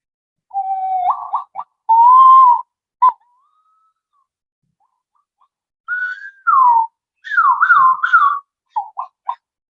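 A bird-call whistle plays short warbling phrases that swoop up and down in pitch, with brief silences between bursts and no voices.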